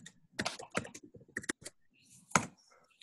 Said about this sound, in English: Can you just type something there as well?